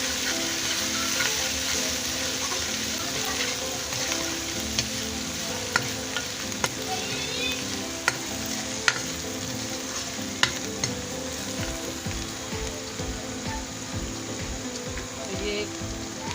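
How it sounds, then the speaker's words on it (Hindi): Garlic ginger paste fries in a pan for a tinda curry, giving a steady, close sizzle. A spoon stirs it now and then, with faint scrapes and clinks against the pan. "अब मैं लहसुन अदरक का पेस्ट शामिल कर रही हूँ।"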